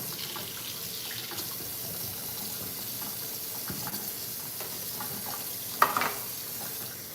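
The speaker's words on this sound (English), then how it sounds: "I'm gonna filter a little bit more water," Water runs steadily from a reverse osmosis water filter tap in a home kitchen, a continuous hissing trickle with occasional splashes and a brief louder clatter near the end.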